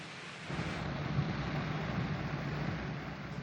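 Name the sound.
rain falling during news report on damaged roads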